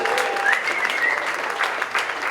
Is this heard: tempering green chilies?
no